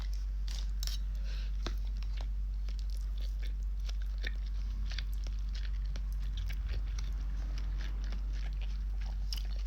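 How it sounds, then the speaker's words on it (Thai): Chewing on fried pork rice with a fried egg: soft, wet crunching and mouth clicks close by, repeated irregularly over a steady low hum, with no talking. "ขอชิม หน่อย นะ ลูก"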